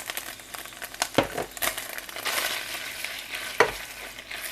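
Konjac noodles are stir-fried in a pan, giving soft sizzling with several sharp scrapes and tosses of the spatula over a few seconds, and no one speaks.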